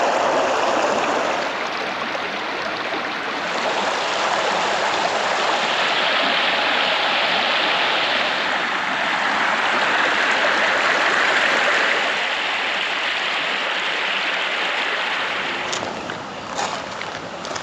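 Water of Bulimba Creek flows steadily alongside a bikeway, a constant close rushing and babbling wash that fills the whole stretch and eases slightly near the end.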